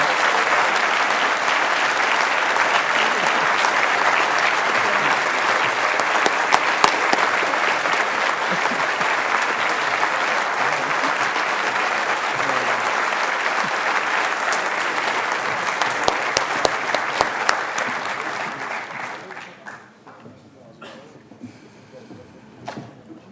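A live audience applauds loudly and steadily at an event, sustained for about nineteen seconds before the clapping fades out to near quiet.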